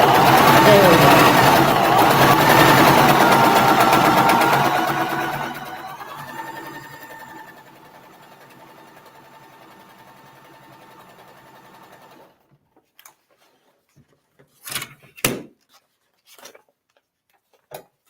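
A sewing machine stitches a quilt block, a steady rapid whirring for about five seconds that slows and fades, followed by quieter handling noises and a few soft knocks.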